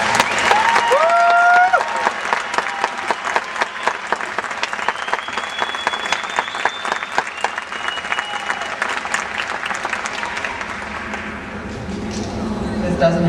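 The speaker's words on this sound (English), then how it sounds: "How about one more round of applause for these fine people?" A stadium crowd at a 2007 event applauds steadily for about thirteen seconds, a dense roar of clapping with a few whistles rising over it, easing slightly near the end.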